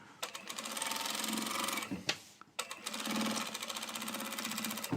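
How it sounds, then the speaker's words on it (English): A sewing machine running top stitching in fast continuous bursts, close and clear, with a brief pause in the middle before the rapid needle chatter resumes. "Now we're doing the top stitching."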